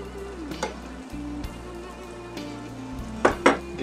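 Meat sizzles steadily in a pan for a taco-style dish, with a few sharp clinks and scrapes of a utensil stirring it, the frying hiss continuous underneath and no talk.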